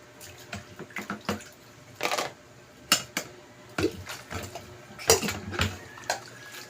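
Dishes being washed by hand, with irregular clinks and clatters of plates alongside running, splashing water, fairly close and steady.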